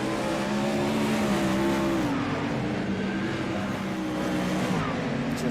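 Several 360 non-wing sprint cars roar around the Eldora dirt oval, a dense, steady engine drone with shifting harmonic whines as cars pass through the turns, loud and continuous from start to finish with no talk.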